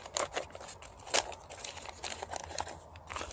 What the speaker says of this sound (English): We're going to crumple it up.